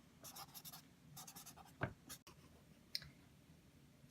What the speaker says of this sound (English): to record your intention here in the journal about what you want to have happen